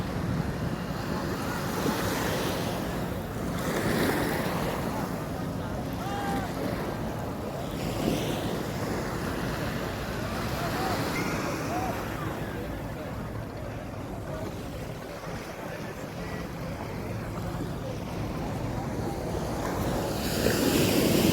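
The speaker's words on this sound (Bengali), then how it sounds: "অনেক জোরে ঢেউ।" Strong sea waves roll and crash continuously onto Chattogram beach, a loud steady surf roar with heavy wind buffeting the microphone and a voice talking briefly over it.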